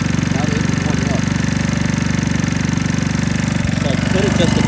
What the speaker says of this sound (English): Now the engine's warming up.